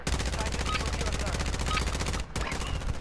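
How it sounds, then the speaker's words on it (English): ISO SMG firing in Call of Duty Warzone, rapid continuous automatic bursts at a fast, even rate, with a brief pause before firing resumes, close and loud. "It's the ISO, the new SMG."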